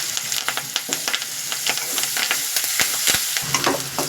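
Ginger garlic paste and curry leaves fry in hot oil for a Rayalaseema-style taro curry, giving a loud, steady close sizzle with crackling pops and occasional stirring scrapes, with no voices.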